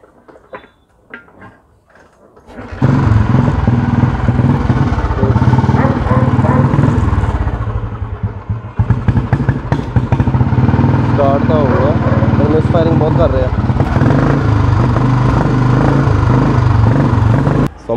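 A Royal Enfield Bullet motorcycle engine starts after a few seconds of quiet handling sounds, then runs loud and steady at close range with a throbbing idle while people talk over it.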